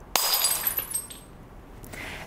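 Glass shatters with one sharp crash followed by a bright scatter of tinkling shards that fade over about a second, close and alone with no voices.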